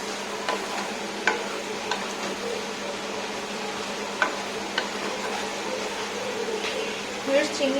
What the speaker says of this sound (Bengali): আমি শুধু চিংড়ি মাছগুলো এখানে কষানোর জন্য দিয়েছি।